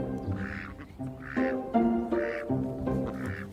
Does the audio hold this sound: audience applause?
no